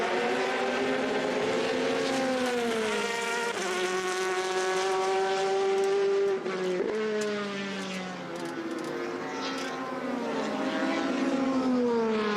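P2 race car at the 24 Hours of Le Mans in 2014 heading out onto another lap, a sustained engine note with rising and falling harmonic pitch sweeps as it accelerates and shifts, loud and continuous with no talk.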